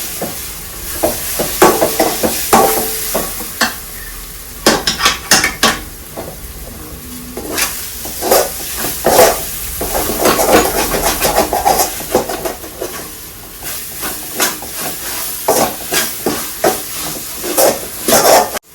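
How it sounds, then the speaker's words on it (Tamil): Chilli-powder masala sautéing in oil in a pan for kurma, with a steady sizzle, repeated spoon-scraping stirs and pan clatter close by, and no talking. "இந்த மிளகாத்தூளோட பச்சை வாசனைலாம் கொஞ்சம் போகிற வரைக்கும் நல்லாவே வதக்கிக்கோங்க"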